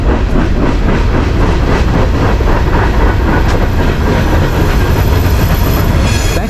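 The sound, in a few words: passing train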